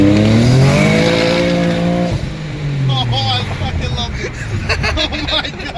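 A twin-turbo Infiniti G37 coupe accelerates hard, engine pitch climbing steadily before a shift, loud and close inside the cabin, with excited voices talking over it.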